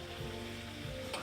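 Liver fries in a pan with a faint, steady sizzle, brief and quiet, with no voices.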